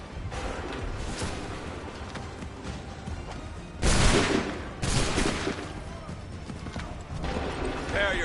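Musket volleys in Assassin's Creed 3 crack out as loud broadband bursts, one massive volley followed by another a second later, with scattered smaller shots and shouted commands around them.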